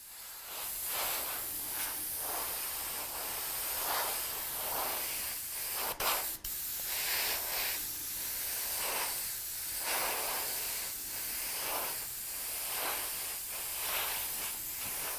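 An airbrush sprays paint onto a scale model bike frame in a series of soft, rhythmic hissing bursts, each pulse rising and fading, with one brief sharp click midway.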